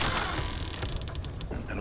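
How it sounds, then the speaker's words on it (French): A creaking door swung open as a sound effect during a tabletop role-playing game session, a drawn-out grinding creak with mechanical clicks, fairly loud and alone without talk. "je vais vous ouvrir la porte même."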